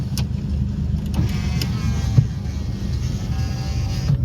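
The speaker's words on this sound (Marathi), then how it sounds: "गेल्या आता खूप साऱ्या गाड्या गेल्या." Steady road traffic near a temple area, with cars passing close by in a continuous broadband rumble and engine drone, swelling slightly as individual vehicles go past; no talking.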